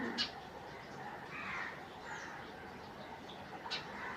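A small bird at a backyard feeder gives a couple of brief, faint high calls over quiet outdoor ambience, with soft rustling in between.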